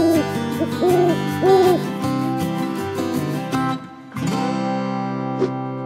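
A cartoon owl hoots in a repeated, tuneful pattern over bright, sustained musical tones, fairly loud and close, with no talking.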